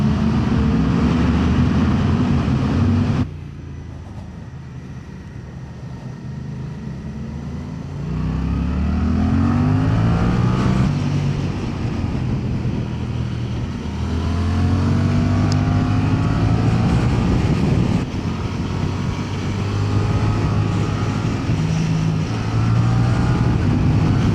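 A 2025 Suzuki GSX-8TT motorcycle engine riding through a tunnel, loud and close, with revving rising and falling through gear changes and a booming enclosed echo.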